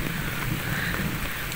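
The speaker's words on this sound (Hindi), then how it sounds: "देखो बारिश हो रही है फिलहाल" Rain falls outside in a village, a steady close hiss and patter that runs the whole time without a break.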